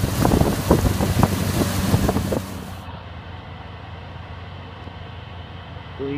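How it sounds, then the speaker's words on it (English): A boat powered by a 200-horsepower Mercury Verado outboard passes on open water, its engine rumble and wind-buffeted hiss loud at first, then fading to a low, steady drone. "200 horsepower Verado Mercury. Great engine, real clean."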